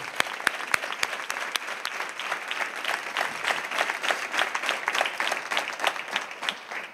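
An audience applauds at a Virgen del Carmen proclamation speech: dense, steady clapping from many hands sustained throughout, a few sharper claps standing out near the start, with no speech over it.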